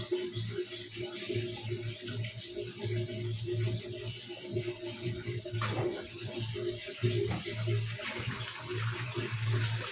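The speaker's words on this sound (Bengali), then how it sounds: "এটা দেখুন বলক চলে এসেছে।" Spicy boal fish curry with green chilies bubbling in a pot over high heat, a steady wet simmering hiss with a low hum underneath, close and continuous.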